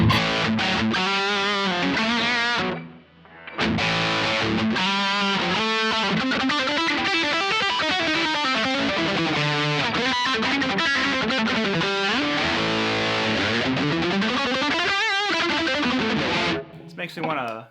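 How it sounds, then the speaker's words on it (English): Electric guitar played through a Synergy amp with its distortion effect engaged, a loud, sustained overdriven tone with chords and melodic runs across the passage, briefly dropping out near the start before carrying on alone. "Check out distortion."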